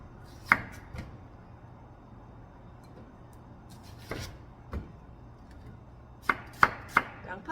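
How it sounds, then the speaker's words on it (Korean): A knife chops onion and other vegetables on a cutting board for a cabbage kimchi side dish, scattered sharp close taps with a quick cluster of cuts near the end, no talking. "부재료들을 좀 썰어 놓겠습니다"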